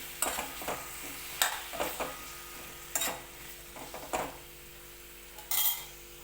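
Eggplant pieces go into hot spiced oil for a Maharashtrian curry, giving a quiet sizzle punctuated by several separate scrapes and clinks of a spoon against the pan, close and spaced out.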